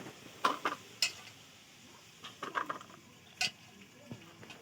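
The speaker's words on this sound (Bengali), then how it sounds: "দু আর তিনবার জল পাল্টে পাল্টে ধুয়ে নেবো" Cut potatoes are washed by hand in water in a bowl, with a few scattered splashes and soft knocks against the vessel and quiet gaps between them.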